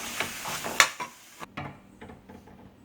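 Fenugreek leaves being stirred into potato gravy in a pan, heard close as soft scrapes and taps of a spoon that are louder at first, over a faint sizzle.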